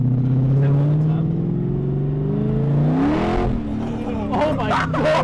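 A BMW E30 fitted with an M60 V8 accelerates hard with a rising engine note and brief wheel spin, heard from inside the car with people talking over it and reacting loudly toward the end.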